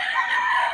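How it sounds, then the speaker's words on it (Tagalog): A brief, bright crow from a bloodline rooster at a market in Bocaue, a single sustained call heard close and fairly loud. "Ang quality ng mga manok ni Boss Albert"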